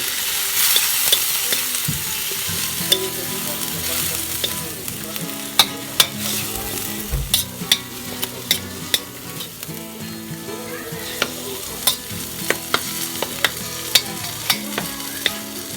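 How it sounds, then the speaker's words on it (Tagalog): Ground pork stirred and frying in a pan for a sautéed bean sprout dish, a steady loud sizzle broken by repeated sharp scrapes and clinks of the utensil against the pan, with no talking. "Ilagay po natin ang pork tapos haluin po natin."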